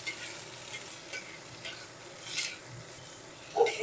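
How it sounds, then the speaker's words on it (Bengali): Pointed gourd (potol) pieces fry in hot oil without turmeric, a steady close sizzle with soft stirring scrapes and a brief louder clatter near the end. "হলুদ না দিয়েই ভেজে নেব"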